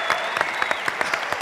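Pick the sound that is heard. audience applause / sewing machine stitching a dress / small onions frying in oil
audience applause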